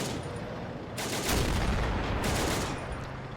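A German MG 42 machine gun opens up in a WWII battle game set at a Greek bridge crossing in 1940, with long, dense bursts of rapid fire swelling over constant combat din.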